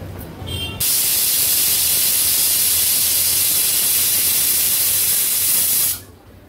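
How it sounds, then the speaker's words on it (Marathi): Pressure cooker whistle blasting loud, steady hissing steam for about five seconds, cutting off abruptly, while Maharashtrian vegetable curry cooks inside, with quieter kitchen background before and after. "आता कुकरचं झाकण लावून ह्याला आपण 3 शिट्ट्या काढून घेणार आहोत।"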